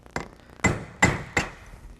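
A hammer taps a pin punch through a brake shoe rivet held in a vise, on a Rolls-Royce Silver Cloud or Bentley S brake shoe: four sharp metallic strikes, close and loud, with a clear ringing tone and uneven gaps between blows.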